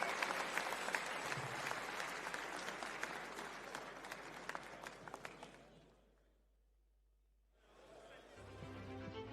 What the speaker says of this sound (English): Ladies and gentlemen, round of applause for Luca Tsinadze.